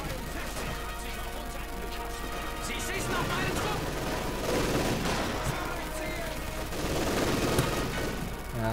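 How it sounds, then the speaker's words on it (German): Dense, continuous gunfire from several weapons pouring into a building held by Soviet troops in Company of Heroes 2, overlapping shots and crashes throughout, with someone talking over the battle. "Und hier hocken die Russen immer noch im Gebäude fest und werden von beiden Seiten beschossen."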